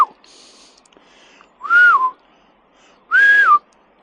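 Two loud, rising-and-falling shepherd's whistles for a sheepdog, about a second and a half apart, sharp and clear with quiet gaps between them.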